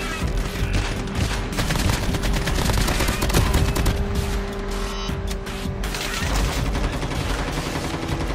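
Rapid MAC-10 fire in Call of Duty Mobile rattles out in a fast, unbroken stream of close, loud shots, thinning briefly before resuming.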